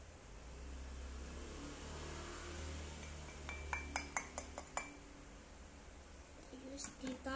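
A metal spoon clinks rapidly against a glass in a short burst of stirring milk, over a steady low hum and background noise.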